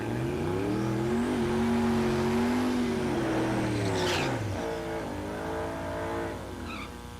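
Drag racing cars, a Mustang and a Gremlin, rev and roar off the line at a Kansas dragway, loud engines climbing and shifting pitch as they launch, then the sound fades slightly as they pull away.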